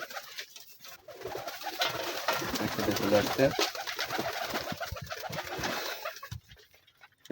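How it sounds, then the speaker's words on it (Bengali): Kaldom pigeons cooing softly in a loft where the squabs have hatched, a steady murmur of low coos with a person speaking over them near the end. "আমার কালদম কবুতরের বাচ্চা উঠেছে"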